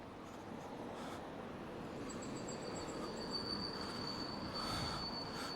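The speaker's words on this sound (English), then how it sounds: "It's a northbound train coming into Åkeshov" A northbound metro train rolls into Åkeshov station in Stockholm at a distance, its wheels rumbling, with thin high squeals rising as it slows. The sound is fairly faint.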